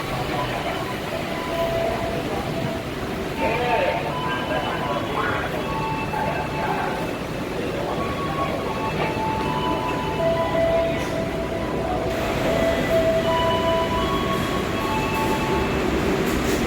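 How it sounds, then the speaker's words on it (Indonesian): Sancaka executive-class passenger train on the Yogyakarta–Surabaya route rolls steadily along the rails, a continuous loud rumble with faint wheel squeals and clatter heard from inside the carriage, a voice talking at times. "perjalanan saya bersama kereta api Sancaka siang eksekutif"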